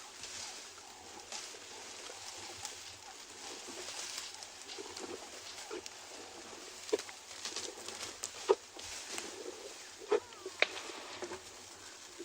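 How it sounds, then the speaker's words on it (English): White-crowned shrikes in a territorial dispute, calling in the afternoon bush of a South African game reserve: scattered sharp chattering notes rise over a steady background hiss, growing busier and louder toward the end. "Most of the birds that you can hear now are white-crowned shrikes having a little territorial dispute with each other."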